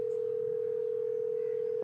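A telephone call rings out with one steady, unbroken electronic tone held for nearly two seconds before it cuts off, heard alone.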